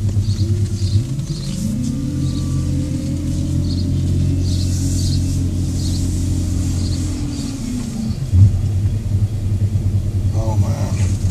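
A car that sat in a driveway for a year with rust-covered discs starts moving off, its engine rumbling loud and close and rising in pitch as it accelerates, then settling, with a brief bump near the end.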